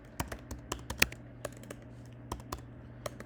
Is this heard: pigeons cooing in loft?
no